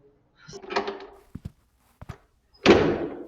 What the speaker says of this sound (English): Well, Samuel, open the door